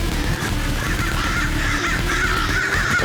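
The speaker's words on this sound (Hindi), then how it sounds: "मैंने एक कौवे को रोटी क्या दे दी? ये तो अपनी पूरी फैमिली लेकर आ गया।" Several crows caw loudly and continuously from nearby, overlapping calls filling the whole stretch against a steady outdoor background, a family of birds gathered on a rooftop terrace after being fed bread.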